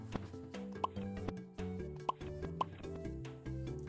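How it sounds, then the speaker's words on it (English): Soft bubbling plops from a video game pop up sporadically over a quiet tonal background, small bright blips spaced irregularly. "that bubbling sound effect, I'm almost positive that is in at least a SpongeBob SquarePants game"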